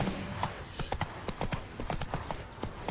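A horse's hooves clip-clop at a brisk, uneven gait in The Witcher 3: Wild Hunt, the close, hollow footfalls tumbling over one another against a soft background wash.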